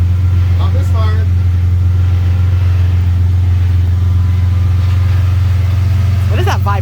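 A Ford Mustang engine idles after a spark plug change, a loud, smooth, even low drone that runs without a break, with brief voices near the start and the end.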